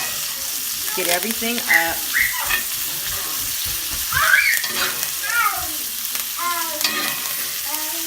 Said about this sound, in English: But I just want to baste it. All of that butter on there.